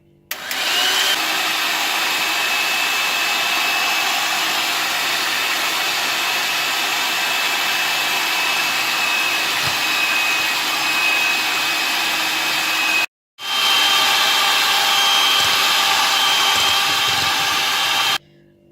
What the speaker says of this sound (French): nous allons faire une chantilly avec donc la crème à laquelle nous ajouterons petit à petit le sucre